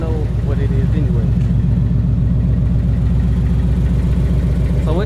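A Ford Mustang GT V8 engine idles with a deep, steady rumble, close and loud, holding an even throbbing pulse throughout.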